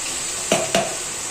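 Crushed peanuts are stirred into vegetables cooking in a pan, two quick scraping strokes of a spoon against the pan over a steady soft sizzle.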